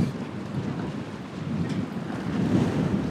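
Strong wind roars at sea during a storm aboard a Viking-style longship sailing down the coast of Norway, a steady broadband rush with a low rumble that swells louder toward the end, no voices.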